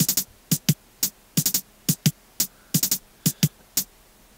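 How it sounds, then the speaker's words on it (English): Programmed hi-hat pattern from a drum-and-bass beat made in Beatmaker 2, playing alone as crisp, bright ticks in a grooving rhythm with slight variations between hits, about twenty strokes over a few seconds. "And then the hats on their own sound like this."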